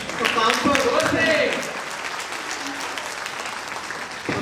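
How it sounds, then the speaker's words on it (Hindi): Seminar audience applauding together at a skin and hair care workshop event, a dense burst of clapping that fades after about a second and a half into quieter scattered claps and room murmur. "क्लैपिंग से जाहिर करिए, बताना नहीं है, आपकी तालियां बता देंगे सर के लिए"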